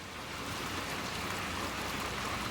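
Steady, dense rain hisses evenly throughout a scene in the video game Little Nightmares II, a continuous wash of falling water with no voices.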